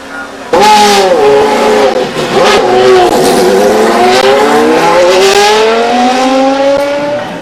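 A Formula One car's high-revving engine screams loud and close on the Monza circuit, its pitch rising and falling across continuous revs for several seconds, with speech tagged underneath.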